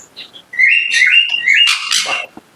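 Exotic pet birds in an aviary give a close, loud run of whistled chirps and squawks lasting a couple of seconds, one call sliding into the next before ending abruptly.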